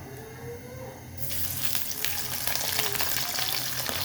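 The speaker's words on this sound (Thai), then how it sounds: "น้ำมันร้อนแล้วนะคะ ใส่ปลาลงไปเลยค่ะ" Hot oil bursts into a loud, steady sizzle partway through, crackling and spitting as thinly battered fish fries; quieter kitchen noise before it starts.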